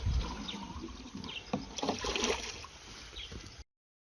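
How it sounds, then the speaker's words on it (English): Water splashes and trickles as it is poured over a garden bed of newly sown huckleberry seeds, a steady close pouring that swells midway and then cuts off abruptly. "You water the whole bed."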